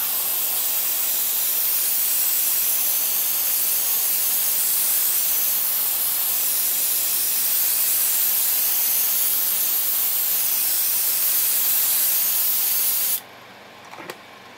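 Airbrush spraying light gray and silver paint onto a 1:4 scale Fukaya Dirty Pair Kei sofubi vinyl figure, a steady loud hiss running unbroken for about thirteen seconds before cutting off abruptly.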